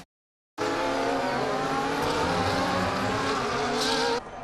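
An F1 racing car in the video game F1 23 screams down the main straight, a loud, sustained high-revving engine note that cuts in abruptly after a brief silence and holds steady.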